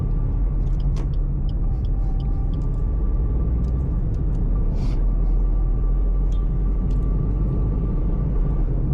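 A Suzuki S-presso AGS hatchback is driven along curving roads, its cabin filled with a steady low engine and road rumble, with faint brief clicks and hisses on top and no one speaking.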